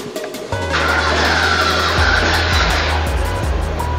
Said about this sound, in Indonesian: mesin bisa kita coba dulu untuk dihidupkan